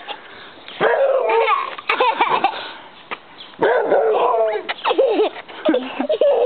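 A Boxer dog barks and yips repeatedly at close range, with whiny, whimpering tones between the sharp barks.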